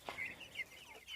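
Chickens at a homestead coop cluck softly in a quick series of short calls, fairly close but quiet, with no speech.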